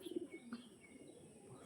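Pigeons for sale, including young Kalshira birds, coo faintly in a loft, with a few low throaty coos near the start and then a quiet stretch of background murmur.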